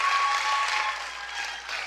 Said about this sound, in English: let's give Stephanie a great round of applause